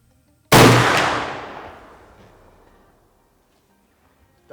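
A single muzzleloader rifle shot with a quick-load accurizer fires at a target outdoors: one sharp, loud crack that rolls away in a long fading echo over about two seconds, then near silence.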